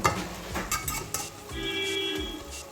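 Taro stem curry is stirred in a pan on medium flame: a few close scraping and clinking strokes of a spoon against metal over a soft sizzle, with no talking.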